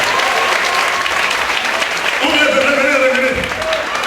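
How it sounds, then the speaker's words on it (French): A church congregation applauds steadily, a dense, even patter of clapping from many hands, while a preacher speaks over it. "Acclamez pour le Seigneur"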